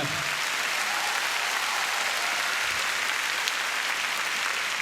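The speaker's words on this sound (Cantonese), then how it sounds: "俾啲掌聲佢" Audience applause at a live stand-up comedy show, a broad, even roar of many hands clapping that holds steady for several seconds, moderately loud with no talk on top.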